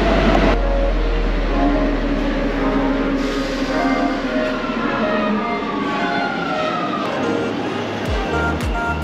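A Rome metro train pulls into a station, with a loud, steady rumble of wheels on rail, rising metallic squeals and hisses, and a brief deeper thump near the end as it comes to a stop.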